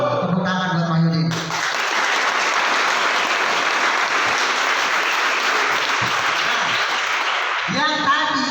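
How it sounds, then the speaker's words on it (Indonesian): A training-session audience bursts into loud, steady applause lasting several seconds, with talk just before it starts and again as it dies away. "Tepuk tangan buat Mahyudin."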